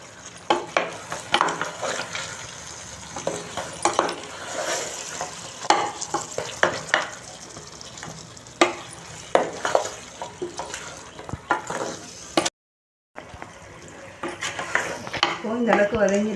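Ginger garlic paste sautéing in a pan for chicken dum biryani, with soft sizzling, frequent clinks and scrapes from a stirring spoon, and a short break in sound partway through.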